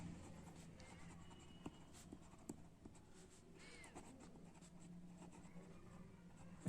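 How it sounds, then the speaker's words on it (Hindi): A pen scratching across paper during a class-10 maths lesson on circles: quiet, steady strokes with small taps and pauses, close and soft against a faint room hum, no talking over it. "तो पहले गिवन लिखते हैं"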